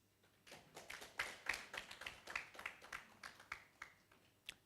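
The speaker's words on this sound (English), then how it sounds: "allow me to welcome her with a hands of applause" A small seminar audience claps to welcome a speaker, sparse, uneven hand claps from a few people, fairly faint, rising briefly and then thinning out.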